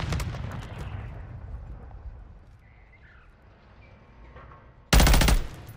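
F2000 rifle fire in a first-person shooter video game: a sudden loud, rapid burst near the end, following several seconds of quieter in-game ambience and low rumble.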